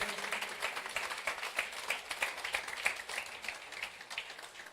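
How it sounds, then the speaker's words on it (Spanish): A church congregation applauding together during a sermon, a steady, moderately distant wash of many hands clapping with a few louder claps standing out, no voices over it. "¿Por qué no le damos un aplauso al Señor?"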